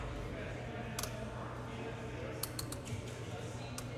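Ratcheted plastic joints on a Voltron 30th Anniversary toy click as the limbs are posed, giving a handful of faint, sharp ticks, one alone and then a quick cluster, over a low background hum.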